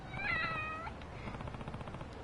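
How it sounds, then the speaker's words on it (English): A cat meows in the video game Lost Judgment, one drawn-out, clear meow near the start, followed by quieter game ambience. "Thank you for being a special kitty."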